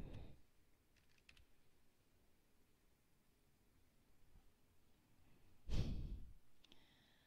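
Short bursts of typing on a computer keyboard as a room name is entered into HVAC software, soft clustered keystrokes near the start and end, with a loud breath or sigh in between and no speech.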